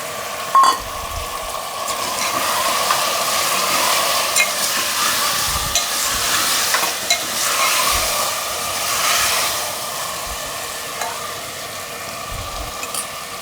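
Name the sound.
tomatoes added and stirred in a frying pan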